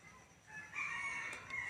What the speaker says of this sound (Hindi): देखिए गाइस सामने मुर्गा है, पता नहीं किसका है जो घर में आ गया।